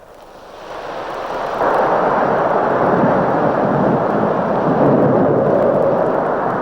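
The Luna 1 rocket launches off its pad in January 1959, a deep rumbling roar that swells quickly in the first two seconds and then holds loud and sustained.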